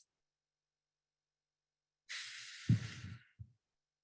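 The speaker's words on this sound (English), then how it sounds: "taking a few deep breaths in through the nose and out through the mouth" After a stretch of silence, one person takes a single slow, deep breath in through the nose, then lets it out through the mouth with a soft, audible sigh, close and quiet during a guided yoga meditation.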